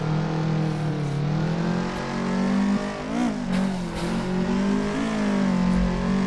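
Turbocharged Toyota AE86 Trueno coupe in the Assetto Corsa racing game, its engine droning loudly and continuously with rising and falling revs and brief gear-change dips, no talking over it.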